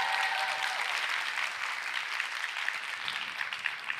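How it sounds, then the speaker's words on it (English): Audience applause at a TEDx Austin College event, a steady wave of clapping from a seated crowd, sustained evenly and heard from across the room. "Another round of applause for Laura J."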